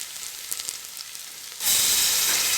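Onions sautéing in a pan for egg biryani, a steady close-up sizzle that jumps suddenly to a much louder, brighter hiss partway through and holds there.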